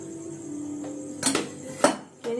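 A metal pot is set down on a stove for tea, giving two distinct ringing clanks close by, followed by a lighter clink over a quiet kitchen hum.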